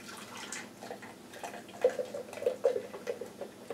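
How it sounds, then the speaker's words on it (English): Thick blended mixture poured out of a Dynapro DPS-1050A commercial vacuum blender jar, giving soft, faint gloopy pours and a few small wet plops near the end, quiet and close. "Let's go ahead and try to pour this mixture out."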